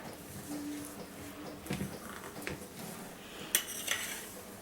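Cocoa, oil and curd mixture being gently folded into dry flour in a bowl for eggless Christmas tree cakesicles, with soft scraping and a few light clinks of utensil against the bowl.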